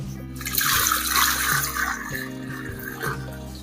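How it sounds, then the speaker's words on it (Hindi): Stock pours into a pot of beef paya masala, making a continuous splashing, gushing liquid sound over a steady background hum. "अब इसमें ऐड कर देंगे स्टोक।"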